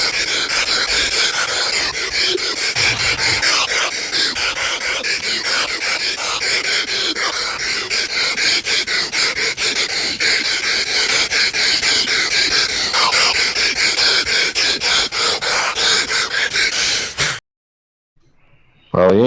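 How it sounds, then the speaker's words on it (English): A Hulk Hogan heavy breathing sound effect button plays loud, continuous rasping pants and gasps for about seventeen seconds, then cuts off abruptly into silence. "We had Hulk Hogan's heavy breathing."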